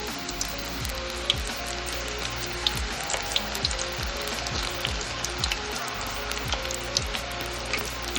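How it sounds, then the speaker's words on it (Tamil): Sliced onion pakoda batter frying in a generous amount of hot oil, a steady dense crackling sizzle with scattered bright pops throughout, close and continuous with music faintly underneath. "எவ்வளோ எண்ணெய் கொள்ளுமோ அந்த அளவுக்கு பக்கோடாவை நல்லா உதிர்த்து போடுங்க"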